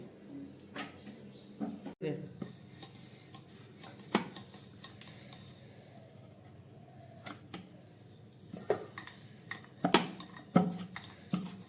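Roti flatbread dough is rolled out in a home kitchen, a soft rhythmic rubbing and scraping with occasional utensil clatter, while someone talks over the work.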